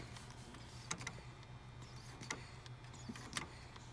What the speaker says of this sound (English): So I've got the vacuum pump hooked up. I'm just gonna pump it.